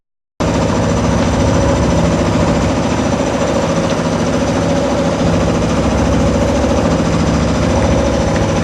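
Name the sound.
sailing boat motoring under engine power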